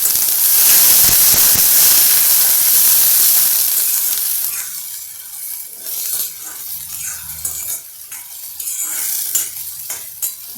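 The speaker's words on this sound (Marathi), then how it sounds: "आता याच्यावर मी एक पाण्याचा शिपका फक्त" Mixed vegetables for vegetable fried rice hiss and sizzle loudly in a hot pan after a splash of water, a strong steamy burst that gradually settles into softer crackling with occasional stirring clinks.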